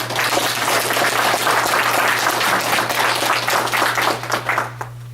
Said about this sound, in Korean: 진심의 박수를 넣는 경례의 박수를